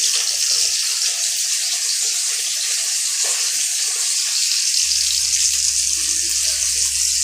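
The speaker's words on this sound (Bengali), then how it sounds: "মাছগুলো ভাজা হচ্ছে।" Pabda fish sizzling in hot oil, a continuous close hiss and crackle that stays loud and even, with a faint low hum joining partway through and no voices.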